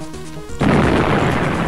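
A bomb blast in the game Sink or Swim bursts out loudly after a short musical lead-in, then rolls on as a dense, sustained rumbling crash.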